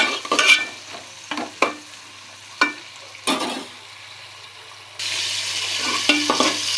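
Tomatoes fry in a pan for a gonguura meal-maker pulao, with several sharp stirring scrapes over a soft sizzle that turns into a louder, steady hiss in the last seconds. No one speaks.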